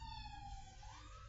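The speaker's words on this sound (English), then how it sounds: "ambulance." An ambulance siren wails steadily and loudly as it passes outside a small home kitchen, its harmonic tones sliding in pitch, with a constant low rumble of traffic underneath and no talk.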